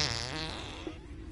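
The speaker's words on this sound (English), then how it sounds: "Fart." A game character in Oddworld: Abe's Oddysee lets out a drawn-out, buzzy fart, loud and close, with no talking over it.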